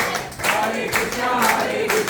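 Worshippers at a house programme clap in rhythm along with a Hare Krishna chant, steady hand claps roughly every half second beneath sung voices.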